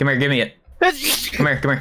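A single sharp sneeze bursts out between snatches of talk during a Valorant gaming session among friends.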